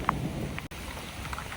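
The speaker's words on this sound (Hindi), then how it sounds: "मैंने आपको बुडापेस्ट की बारिश तक दिखा दी है" Steady rain falls on a Budapest street in a brief, even patter with a few sharper drops.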